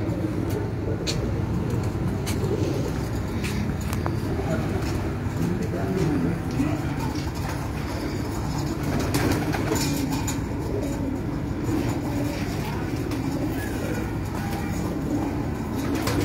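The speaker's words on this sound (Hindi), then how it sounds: "ये लाल परी वाले टैडी कबूतर हैं" Lal Pari teddy pigeons coo on a rooftop loft in Gujranwala amid constant loud background noise, the low calls blending into a dense steady din with faint voices.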